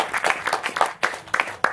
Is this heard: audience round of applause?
yes